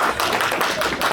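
Wedding guests at a civil ceremony in Chartres applaud the couple, a dense, steady wash of many hands clapping close by, with no voices standing out.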